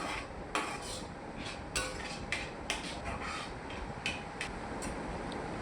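A spatula stirs egg masala in a metal pan, producing a string of regular clanks and scrapes about once a second over a dense frying hiss, close and with no speech.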